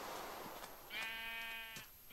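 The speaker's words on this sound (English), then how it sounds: "A lot of sheep around here too." A single drawn-out sheep bleat from a video game sounds clearly over a soft, steady background hiss, with a faint second call trailing just after it.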